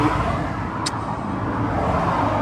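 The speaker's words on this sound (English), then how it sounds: "Sorry about the traffic." Steady road traffic rumbles past nearby, a continuous broad wash of car noise with no clear breaks, recorded close to a roadway.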